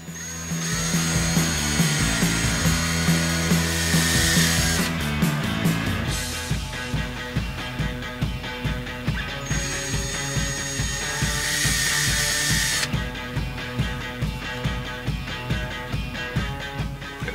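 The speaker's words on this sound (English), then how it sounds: "It's an 1/8 inch drill bit." A power drill with a 1/8 inch bit whirs steadily at close range, its motor pitch shifting partway through, with a rhythmic ratcheting pulse running underneath.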